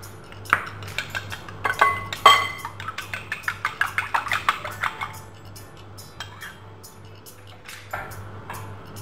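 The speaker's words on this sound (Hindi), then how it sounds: "यहाँ पर मैं तीसरा एग भी जो है वो बीट करके डालूँगी" An egg is beaten for rasmalai, a quick run of light, rhythmic clinks that speeds up for a few seconds and then trails off into scattered taps.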